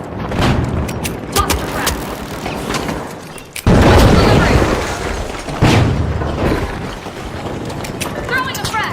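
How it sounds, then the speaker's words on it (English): A flashbang grenade goes off in a vault-raiding video game match, a sudden loud blast near four seconds and another near five and a half, each ringing out over dense gunfire, game effects and voices. "Throwing a flashbang!"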